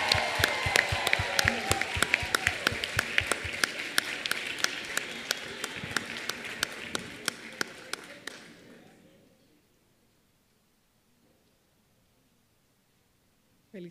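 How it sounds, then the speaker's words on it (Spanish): Audience applause for an award winner, a doctor, at a dental aesthetics congress awards ceremony: dense steady clapping for about eight seconds, then fading out to near silence. "Un fuerte aplauso para ella."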